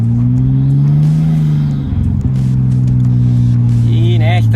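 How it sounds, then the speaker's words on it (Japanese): Turbocharged Mitsubishi Eclipse, the Fast & Furious car, idles with a loud, steady engine drone and a slight rev swell near the middle, heard up close at a car gathering in America with faint background voices. "やっぱりターボの音が聞こえてくると"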